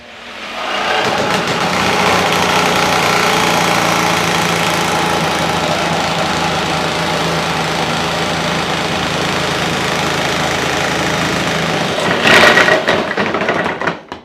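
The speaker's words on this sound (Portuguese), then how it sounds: "É assim que eu vou cortar tábuas, coisas ao comprido." A jigsaw cutting a wooden board lengthwise, a loud continuous buzzing rattle that starts abruptly, holds steady for over ten seconds, surges briefly near the end and then stops, with no talk.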